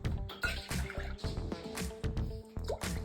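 Milk poured into a bowl for cupcake batter, heard as close splashing and dripping in uneven bursts with short pauses, fairly quiet and without voices.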